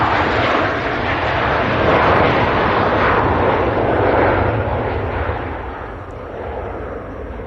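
A Turkish Airlines Airbus A321 roaring down runway 05 left at Manchester Airport on takeoff, a loud, broad, steady jet rumble that swells and then slowly eases as the aircraft climbs away.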